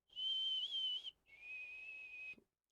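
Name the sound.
person whistling imitating a signal whistle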